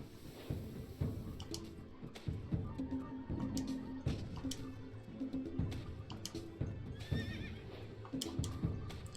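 Horses in the Tetris Effect video game, walking with soft clip-clopping hooves and letting out occasional neighs and whinnies against a faint musical backdrop.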